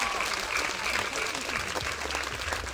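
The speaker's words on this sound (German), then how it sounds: "Einmal Applaus für Matthäa, bitte." A crowd at a live concert in Braunschweig applauds a performer, dense and even clapping filling the whole stretch with no voice on top.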